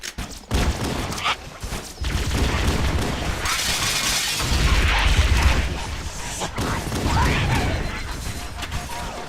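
Halo: CE combat fills the space with plasma grenade blasts, crashes and bursts of weapon fire, loud and busy, dipping briefly between clashes before surging again.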